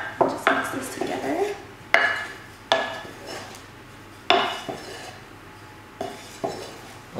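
Baking soda, vanilla sugar and potato flour being mixed in a bowl, a series of sharp utensil clinks and knocks against the bowl recurring every second or so, close and fairly loud.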